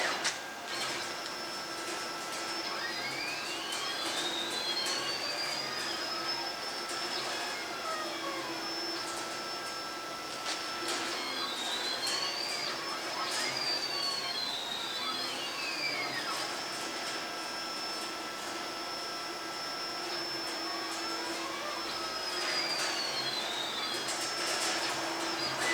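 A discount CNC plasma cutting table makes a dry run with no cutting: a steady mechanical hum overlaid by whining motor tones that sweep up and down in pitch every few seconds.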